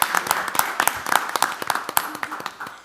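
A small audience at a board meeting gives a modest round of applause, with distinct individual claps at an uneven rhythm rather than a dense roar, fairly close and clear.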